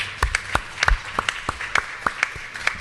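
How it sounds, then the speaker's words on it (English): A small group claps for a speaker at an address on civil society in America. The claps are close and distinct, coming in a loose, uneven rhythm of about a dozen sharp hand slaps, with little else heard. "Let us give him a hand of applause."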